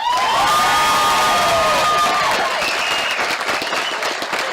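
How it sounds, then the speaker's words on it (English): Graduation audience at a Klamath Community College commencement applauds the faculty, a loud, sustained wash of clapping and cheering with whoops rising over the crowd. "Graduates, please join me in adding your applause as we thank the dedicated faculty who have served and guided you"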